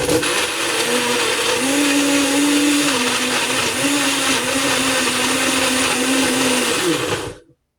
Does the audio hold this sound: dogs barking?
no